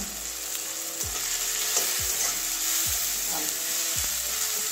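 Pointed gourd frying in a pan as Kashmiri chili powder goes in: a steady, loud hiss of oil throughout, broken by four sharp scraping stirs spaced about a second apart, with no voices.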